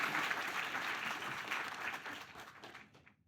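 An audience applauds at a university medal awards ceremony, a dense, steady clapping that fades out toward the end.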